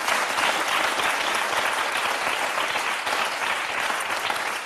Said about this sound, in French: On peut l'applaudir, Kinsey, je crois.